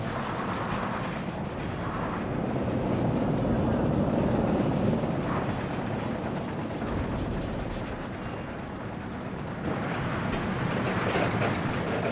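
A steady, loud rumbling clatter of a wooden roller coaster car rolling along its track in Planet Coaster 2, continuous and unbroken for the whole stretch.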